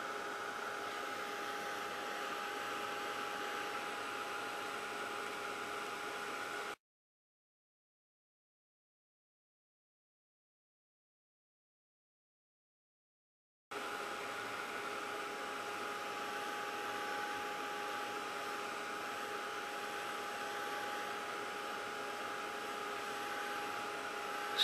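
A hot dryer blows with a steady, even whooshing hum and a faint tonal whine, cutting out completely for several seconds before running again just as steadily, close and unbroken by talk.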